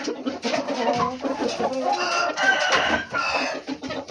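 Chickens cluck loudly and continuously close by, with a rooster crowing over the flock.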